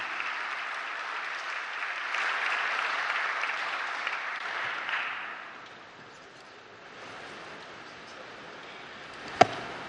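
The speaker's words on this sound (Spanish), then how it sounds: "Les pido por favor que recibamos con un fuerte aplauso" Applause from a lecture audience welcoming a speaker at a forum on oil prices, moderate clapping for about five seconds that fades into quiet room tone, then one sharp knock near the end.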